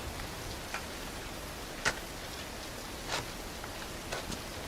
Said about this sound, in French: il pleut à mort